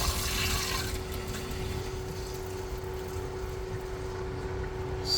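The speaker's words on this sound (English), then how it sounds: "Water's running through." Water from a garden hose rushing through the shower plumbing of a new Grand Design Solitude RV, a steady close hiss and gush with a low mechanical hum underneath.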